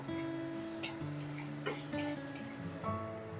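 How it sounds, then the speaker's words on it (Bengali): Chopped chilli, onion and garlic fry with spice masala in a pan, giving a soft, steady sizzle. A few faint stirring scrapes come through over a low background hum. "দিয়ে আবার ভালো করে মশলা পেঁয়াজ রসুনের সাথে ভালো করে কষে নেব"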